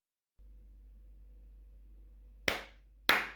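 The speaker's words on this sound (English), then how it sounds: "Wait, keep clapping." Two sharp, close hand claps ring out a little over half a second apart, following a quiet stretch of low hum.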